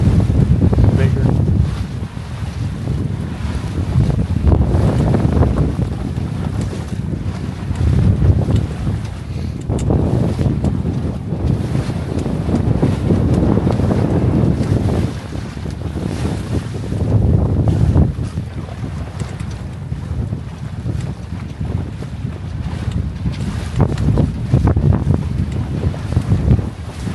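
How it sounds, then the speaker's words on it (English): Strong wind gusts buffet a Catalina 22 sailboat with a reefed mainsail in open water, a steady roar of rushing air and microphone buffeting swelling and easing in long surges, with water noise underneath. "the gusts are getting a little bit bigger"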